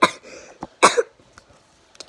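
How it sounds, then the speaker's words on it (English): A single sharp cough near the mic, followed by a quieter second cough and a few faint throat sounds, with no talking. "That wasn't an okay cough."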